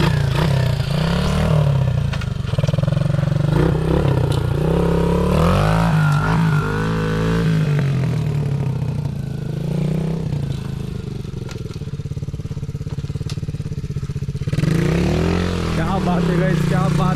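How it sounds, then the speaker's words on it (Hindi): A 125cc dirt bike engine revs hard at full throttle, its low rumble rising and falling steadily while several voices talk and cheer over it. "खोलो पूरा थ्रॉटल खोलो, मजा आएगा"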